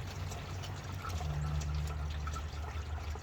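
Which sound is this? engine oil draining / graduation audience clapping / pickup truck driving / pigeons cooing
engine oil draining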